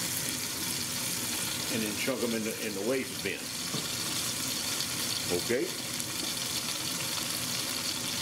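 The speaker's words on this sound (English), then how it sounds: "We're going to throw them in the sink and run some water on the splatter shields." Tap water runs into a kitchen sink over splatter shields, a steady broadband hiss lasting the whole stretch while someone talks over it.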